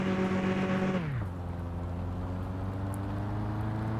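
An automatic car with flat tyres in the Mon Bazou car building simulator game drones steadily; the engine pitch drops as it shifts gear, then holds a low, even hum throughout.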